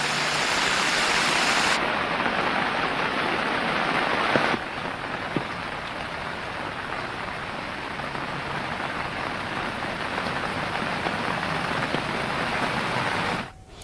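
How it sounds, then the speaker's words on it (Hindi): Heavy rain pours down across parts of Delhi, a loud dense continuous hiss of falling water that holds steady for the whole stretch, with no voices. "दिल्ली के कई इलाकों में भी तेज बारिश हुई है"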